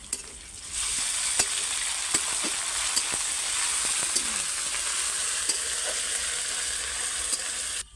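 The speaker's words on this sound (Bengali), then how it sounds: "আদা রসুন বাটা দিয়ে দিলাম পরিমাণ মতো," Onion with ginger and garlic paste goes into a hot pan for rajma curry, bursting into a loud, continuous sizzle after a quiet first second, dotted with small pops and no talking.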